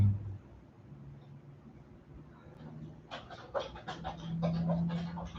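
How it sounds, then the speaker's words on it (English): Steady breathing during yoga practice, soft panting breaths that grow louder and more rhythmic toward the end, close and alone without talk. "keep breathing. You may even close your eyes. Inhale, exhale."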